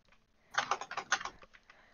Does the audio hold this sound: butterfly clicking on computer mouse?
yes